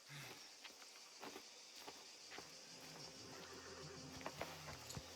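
Horse sounds in the video game Mafia: The Old Country, with a short whinny and scattered clip-clop hoof steps over a low ambient bed, fairly faint and without talk.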